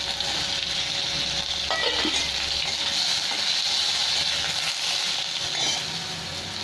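Slices of pointed gourd (potol) hit a hot oiled pan for a Bengali mustard mixed-vegetable dish, giving a steady, close broadband sizzle with brief stirring scrapes, continuous and loud, with no talking.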